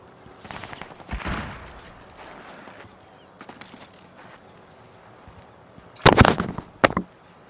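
A frag grenade explodes in Call of Duty: Modern Warfare with a sharp, loud double blast near the end. Scattered gunfire pops and cracks earlier in the clip, and a brief burst comes early on.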